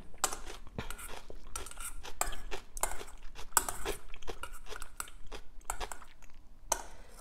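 Close, wet crunching of someone chewing crisp cucumber with Szechuan cold noodles, bite after bite in an uneven rhythm, with occasional sharper crackles and no talking.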